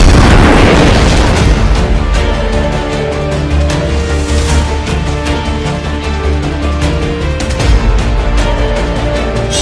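A turret fires at a giant flaming T-Rex in an animation, opening with a loud booming explosion that settles into a long rumbling roar, with further sharp bursts and pops over busy layered effects.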